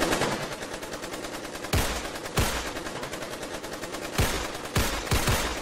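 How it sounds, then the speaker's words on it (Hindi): Cartoon gunfire in an animated comedy set at a wedding procession in Korangi: several sharp, loud shots cut through a dense, continuous battle-like din, spaced irregularly across the stretch. "अबे ये कहाँ मार दी गोली, तूने तो बोला था फायर इन द होल।"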